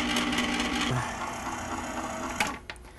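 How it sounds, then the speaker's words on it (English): Ice cream maker motor churning pecan praline ice cream after twenty minutes, a steady mechanical whir that drops lower and strains as the motor bogs down, then a couple of sharp clicks near the end. "I can actually hear that motor starting to bog down"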